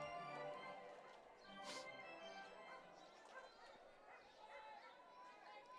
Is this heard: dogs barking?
yes